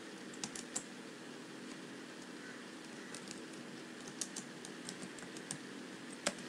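Keys tapped on a computer keyboard while an online application form for a law university is filled in, a quiet scattered clatter of light clicks in irregular bursts over a faint steady background hum.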